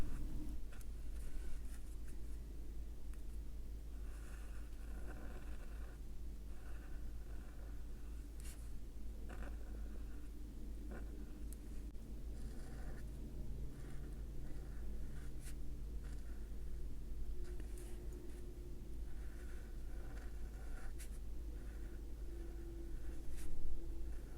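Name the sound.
Ecoline brush pen drawing on watercolor paper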